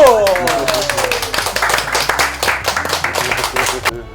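Family guests clap together at a surprise 77th birthday party, a brisk burst of close, loud handclaps in quick irregular rhythm that fades out near the end, with a voice briefly over the start.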